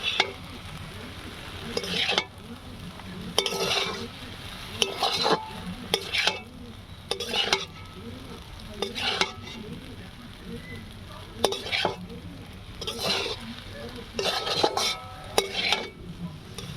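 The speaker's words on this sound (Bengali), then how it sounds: "দিয়ে আবারও ভালো করে নেড়ে নেব" Egg chowmein stirred and fried in a pan with vinegar and egg: a soft continuous sizzle under repeated scraping bursts of a utensil against the pan, coming in irregular strokes every second or so, with no talking.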